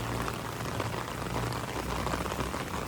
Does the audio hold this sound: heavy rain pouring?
yes